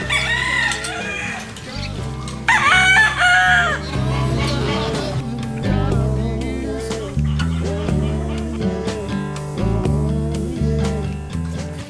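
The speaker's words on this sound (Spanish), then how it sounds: "sin olvidarnos de los gallos, a los que les encanta despertarnos a cualquier hora del día o de la noche." Roosters crow on Malapascua island, several drawn-out cock-a-doodle-doo calls rising over steady background music, loud and fairly close.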